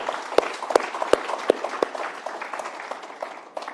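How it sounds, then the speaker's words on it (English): Scattered applause from a conference audience at an energy-economy event, a few sharp individual claps standing out at first before settling into lighter, thinner clapping. "let's give them a big round of applause"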